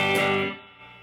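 An acoustic guitar chord strummed stiffly with a pick gripped too tightly rings out in one harsh, bright attack that fades over about a second, close and alone.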